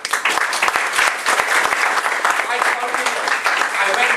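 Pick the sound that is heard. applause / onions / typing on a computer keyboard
applause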